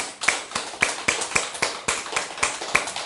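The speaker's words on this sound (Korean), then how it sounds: "우리 하나님께 감사의 박수 올려드립니다" A church congregation claps in thanks during a Sunday service. The claps are sharp and fall together in a steady unison rhythm, about four per second, with no speech over them.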